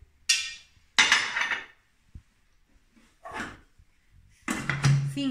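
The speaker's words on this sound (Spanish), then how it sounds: "cinco o seis golpes de turbo para trocearla" A Thermomix bowl of almonds and powdered sugar gets about four short, separate turbo pulses, each a sharp whirring, rattling burst close by, with silence in between.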